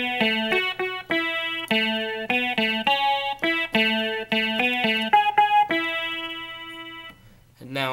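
Electric guitar with effects plays a melody as a steady run of clean, bright picked notes at moderate pace, close and alone, ending with a brief noisy handling sound.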